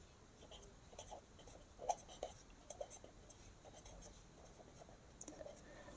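A pen writes on paper while a sixth-grade geometry problem about a trapezium is worked out, giving quiet, close, irregular scratchy strokes in short bursts with brief gaps between them.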